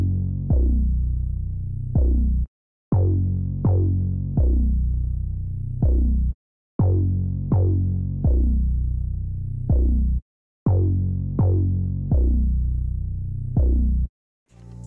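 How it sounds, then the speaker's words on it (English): The Fungi bass from a 2K stash kit plays a loud, deep melodic pattern of plucked notes, each sharp onset fading quickly, in a steady rhythm with brief silent gaps between phrases. "This is the Fungi bass from my 2K stash kit."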